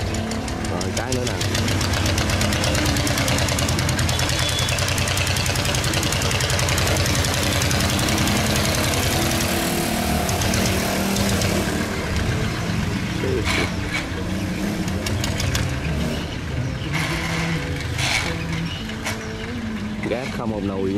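A loud boat engine roars and revs continuously on a river, with rough knocking tones and people talking over it throughout.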